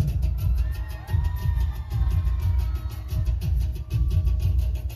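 Students at a school event clap in sustained, dense applause filling the hall, with a broad rumble of the crowd underneath and a few swells and dips as the clapping continues throughout.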